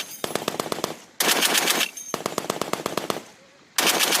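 An M2A1 machine gun fires on a Marine live-fire range in loud, close bursts of rapid shots, separated by brief pauses.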